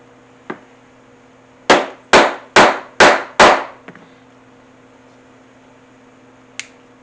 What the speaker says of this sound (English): Now all I have to do is take my punch, put it on my backer,